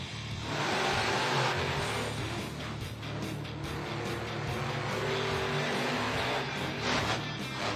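Monster trucks launch off the line in an arena race at Monster Jam in Tucson, their engines a loud, continuous roar that stays steady throughout with no break.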